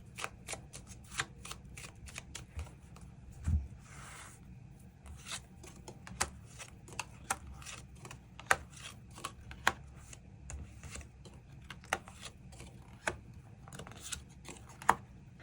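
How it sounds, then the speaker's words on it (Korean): Tarot cards being shuffled and drawn, a steady run of crisp, quick riffling flicks and soft slides close by, with sharper card snaps scattered throughout and no talking. "추가 카드로 일별로 월요일부터 일요일까지 어떤 하루하루를 보내게 될지 추가 카드 뽑아보도록 하겠습니다."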